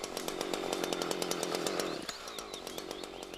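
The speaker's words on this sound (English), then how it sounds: "Then cut from underneath to meet the first cut." A chainsaw cuts up from underneath a tree trunk to meet the first cut, the engine roaring loud and steady with a rapid chain rattle, then dropping in pitch as the bar bites.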